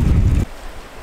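Strong wind roars against the microphone on a boat trip in windy weather, loud and gusty for a moment before dropping abruptly to a quieter rush of air and water.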